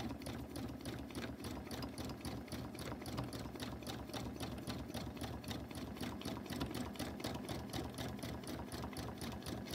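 Sewing machine doing bobbin work, running at a steady even pace with a fast regular stitching rhythm throughout, close and continuous, with no talking.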